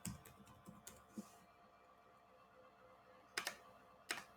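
Code being typed on a computer keyboard: faint, sparse clusters of key clicks, a few quick taps early, then a quiet pause before two sharper bursts of keystrokes near the end.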